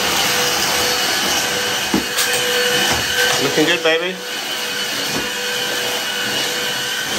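A Hoover vacuum cleaner runs with a loud, steady motor drone and whine throughout, while a person speaks briefly over it near the middle.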